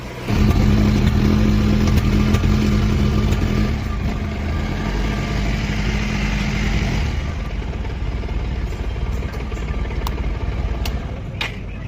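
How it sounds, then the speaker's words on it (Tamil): A Bajaj Pulsar 125 motorcycle with a starting and electrical fault cranks and fires, then runs close by with a loud, steady, clattering engine note that settles slightly after about seven seconds. "இப்போ உங்களுக்கு வண்டியை ஸ்டார்ட் பண்ணி காமிக்கிறேன், பார்த்தீங்கன்னா தெரியும்."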